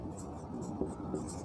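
Marker or chalk writing on a board during a physics lecture on self-inductance, a faint, steady scratching that runs continuously for the whole stretch, with a couple of slightly firmer strokes.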